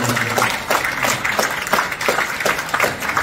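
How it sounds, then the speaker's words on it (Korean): Warm applause from the congregation at a Christian prayer breakfast, a close, loud burst of clapping with rhythmic swells, no talking over it. "여러분 뜨거운 박수 한번 보내주시기"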